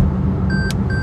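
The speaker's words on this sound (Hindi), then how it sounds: "ये आवाज़ का मतलब आपको अलर्ट कर रहा है कि आप लाइन का ऊपर हो" Lane departure warning in a Cadillac Escalade SUV, two short high electronic beeps heard inside the cabin over steady road noise.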